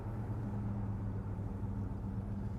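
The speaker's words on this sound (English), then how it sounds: "Dual exhaust, of course, sounds quite good." A 1968 Chevrolet Caprice Estate Wagon with dual exhaust idles, giving a steady, low, throaty rumble that stays even and continuous throughout.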